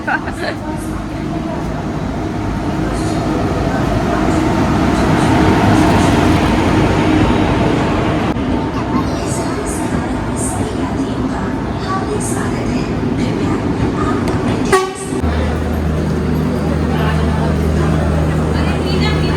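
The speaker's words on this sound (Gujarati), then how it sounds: "જો ટ્રેન આવી ગઈ છે" Train pulling into a railway station, with a loud, sustained rumble and rattle of carriages under chatter from people on the platform, followed by a sharp clunk and a low steady hum.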